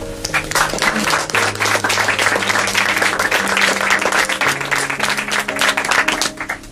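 Warm audience applause for author Martín Camps at a book presentation, a loud, dense crowd clapping that holds steady for several seconds while a sustained musical tone plays underneath.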